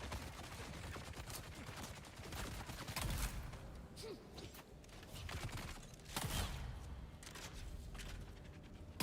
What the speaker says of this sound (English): Let's just shoot these guys so they'll stop shooting us.